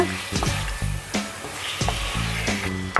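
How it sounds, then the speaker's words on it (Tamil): Chicken with turmeric sizzles steadily in a hot frying pan for a spicy pepper gravy, with repeated close stirring scrapes and clacks of a spoon against the pan. "மஞ்சத்தூள் சேர்த்து நல்லா மிக்ஸ் பண்ணிக்கோங்க."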